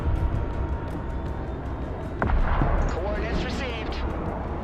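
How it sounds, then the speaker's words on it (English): Artillery fire in a video game battle, booming and rumbling in a dense, continuous wash with a sharper blast partway through, under a steady bed of speech. "All this artillery here."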